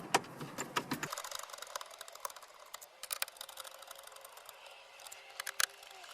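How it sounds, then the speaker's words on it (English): A ratchet clicks steadily as four 7mm screws are backed out of the dash screen mount in a Ford Fusion, with rapid, quiet mechanical ticking and occasional sharper clicks, close and alone. "we need to remove the 4 7mm screws holding the screen and API-M in the dash"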